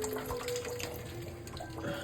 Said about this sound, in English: Since the snow is thawing, this thing is filling up with water.